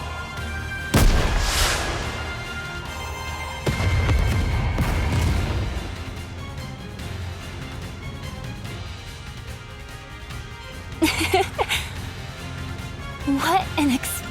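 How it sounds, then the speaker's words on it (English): Explosion from the NIKKE Ice Dragon Saga game event: loud booming bursts near the start and again around four seconds, with sharper crackling hits later, under game dialogue and music. "What an explosion!"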